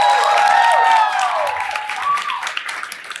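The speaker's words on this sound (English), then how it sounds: "a round of applause for these two groups" Audience applause fills a campus gathering, a dense wash of clapping that starts loud and tapers gradually over about three seconds, with a few whistle-like tones riding on top early on.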